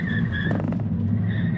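An electric Mini JCW hot hatch accelerates at full throttle from low speed on dry pavement, giving a steady hum with a high whine that rises slightly, heard from inside the cabin over road rumble.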